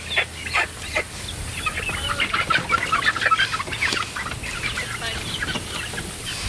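Chickens cluck and squawk in quick, agitated bursts close by as they are caught during a move into a hoop coop, with rustling around them and no speech.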